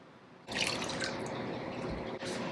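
Worcestershire sauce is poured by the tablespoon in a kitchen, making a soft, wet liquid splash that lasts about two seconds after a short quiet start.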